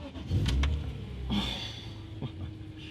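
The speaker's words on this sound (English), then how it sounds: "Just this absolute pure straight 6 BMW." A BMW E46 M3 straight-six engine idles and blips, rising briefly in revs a couple of times before settling into a low, steady rumble nearby.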